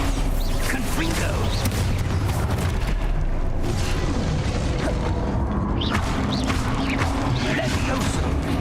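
Spell blasts and explosions from the Hogwarts Legacy video game boom and crash almost nonstop over loud dense game sound. A voice keeps calling out spell names throughout.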